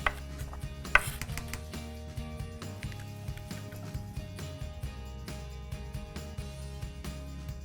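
A knife slicing an onion on a cutting board in a home kitchen, rapid irregular tapping chops with dull thuds and soft scraping, close and steady, without talk.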